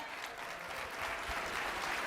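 A seminar room audience breaks into continuous applause, a thick, even patter of many hands that holds steady and swells slightly toward the end.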